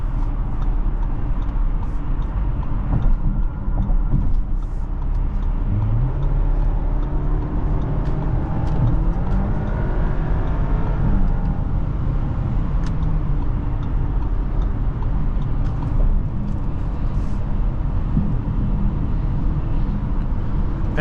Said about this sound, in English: And coasting here on the freeway, it's great.